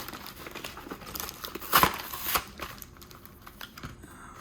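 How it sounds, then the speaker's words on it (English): Sealed trading card packs get ripped open in a quiet indoor space. The foil crinkles and tears faintly, with one sharper rip in the middle and no talking. "let's go ahead and rip these open"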